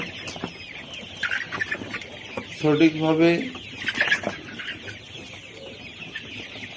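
Layer pullet chickens cluck in a poultry shed, a burst of clucking rising mid-clip, with someone talking over and around it.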